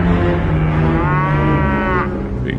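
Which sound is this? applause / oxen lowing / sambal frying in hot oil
oxen lowing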